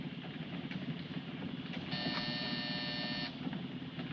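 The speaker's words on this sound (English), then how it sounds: "Hit that buzzer." A harsh electric buzzer sounds once, steady and sustained for about a second and a half, over a low rumbling engine or train hum that runs underneath throughout.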